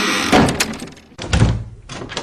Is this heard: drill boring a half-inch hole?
no